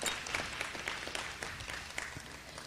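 An audience claps in a steady stream of applause, moderately loud, with no talking over it.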